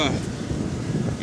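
Low, rumbling wind buffets the microphone in a steady, loud roar with a few gusting surges throughout.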